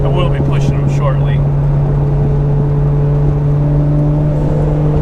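A twin-turbocharged engine runs loud and close, with a steady droning tone that holds for the whole stretch without clear revs.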